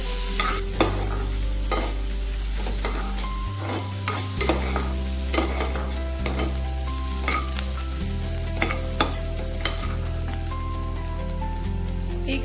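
A bowl of onions frying in hot tempering oil for a moth beans curry: a loud, steady sizzle with crackling pops and occasional stirring scrapes, no talking.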